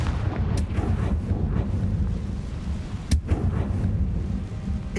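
A Confringo fire spell blasting in Hogwarts Legacy, heard as a sustained roaring rumble with a sharp explosive crack near the middle, loud and close with no talk.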